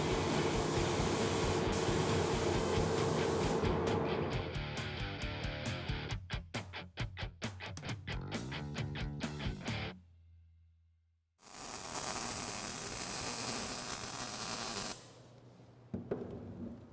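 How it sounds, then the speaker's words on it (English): A spray gun lays paint onto the fenders and bedsides of a Ford F-150 prerunner, giving a close, steady hiss in bursts, then a short pause before a further stretch of spraying. "wet sanded our fenders and bedsides before spraying on the second coat of paint"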